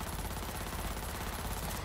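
Steady wash of video game gunfire, rapid rattling bursts blending into a dense continuous roar at a fairly low level, no voices.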